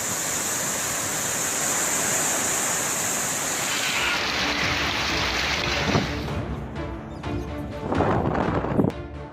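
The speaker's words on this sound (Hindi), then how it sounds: "आंध्र प्रदेश, ओडिशा और पश्चिम बंगाल में कई जगह भारी बारिश शुरू हो गई है।" Heavy rain on the coast as Cyclone Jawad approaches, a dense steady roar of downpour and rushing water, loud and continuous, with some irregular splashing and thumps toward the end and no voices.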